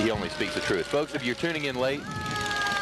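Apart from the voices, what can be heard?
fire truck siren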